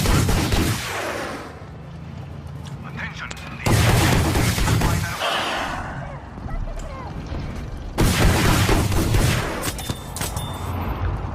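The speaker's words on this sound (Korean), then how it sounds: "지연 포격" A delayed artillery barrage crashes down in Battlefield V, with heavy booming blasts and gunfire arriving in loud bursts amid battle noise, and players talking over it.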